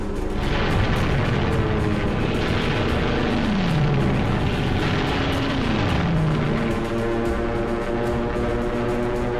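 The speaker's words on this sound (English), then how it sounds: "Waves of aircraft attacked military airfields on their way to Pearl Harbor." Attacking warplanes on the Pearl Harbor raid roar in as a continuous, loud engine drone, with a descending whine sweeping down twice as the aircraft pass, and a dense rumble beneath.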